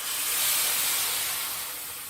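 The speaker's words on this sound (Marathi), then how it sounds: "आता आपण थोडंसं पाणी घालूया." Water poured into a pan of sautéed vegetables, ridge gourd dumplings with spices in a Maharashtrian home kitchen, producing a steady, loud steamy hiss that fades slightly over two seconds.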